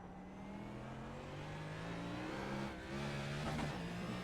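A NASCAR race car on a road course brakes and downshifts, its engine note sliding downward in pitch and then rising again, heard steadily from inside the car with no talk.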